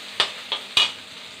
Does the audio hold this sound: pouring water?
no